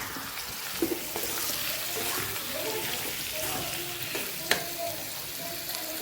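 Green paste and pepper powder being mixed in a frying pan, a soft sizzle with scraping strokes of a spatula and a few sharp clinks against the pan, close up, with someone speaking over it.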